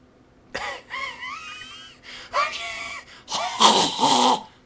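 A voice imitates a man's coughing fit in three harsh, breathy bursts of rasping coughs and gasps, growing louder toward the end, close and alone.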